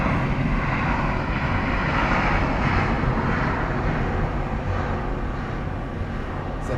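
An Emirates jet airliner passes at Miami Airport, its steady, broad engine roar holding loud and close for the whole stretch with no voices over it.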